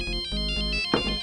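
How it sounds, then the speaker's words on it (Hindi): A phone ringtone rings with a bright, musical electronic melody of short repeated tones, loud and close, continuing for about a second with no one speaking over it. "फोन उठाइए।"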